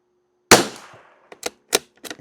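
A Savage Mark II FV rifle firing CCI standard velocity ammunition lets off one sharp, close crack, followed by several quieter clicks and clacks of the action being worked.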